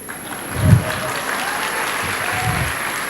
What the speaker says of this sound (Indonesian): Kali ini tepuk tangan untuk yang mendapat predikat sendirian.